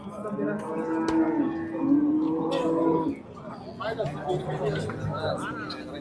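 At the Karshi cattle market, a cow lets out a drawn-out, wavering moo up close for about three seconds. Afterward, the background holds chattering voices and a murmur of market bustle.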